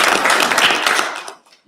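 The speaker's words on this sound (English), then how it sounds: "Another round of applause for" Audience applause at a business indaba, a dense burst of clapping that fills the room and then quickly dies away, with no one speaking over it.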